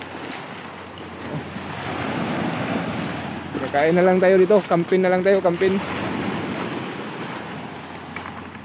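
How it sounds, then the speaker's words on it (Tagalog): Strong ocean waves and gusting wind roll steadily along a shore in bad weather at a spearfishing camp, a loud continuous wash, with people talking briefly over it partway through. "Malakas yung alon."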